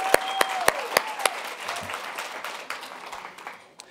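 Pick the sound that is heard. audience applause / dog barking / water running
audience applause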